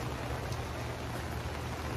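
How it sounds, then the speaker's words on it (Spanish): Steady rain falling outside a house in El Salvador, a continuous dense hiss of drops on surfaces, fairly close and even, with no talking. "se vino lo que es la lluvia"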